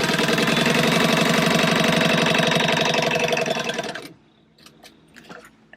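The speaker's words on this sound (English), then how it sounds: "And just sewing 1/4 of an inch from the edge." A sewing machine stitches along a purse edge, a steady, fast mechanical rattle running loud and close for about four seconds before it stops, followed by a few faint handling clicks.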